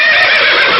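A horse neighs in a loud, close, high-pitched whinny, a short sound-effect burst with no talk over it.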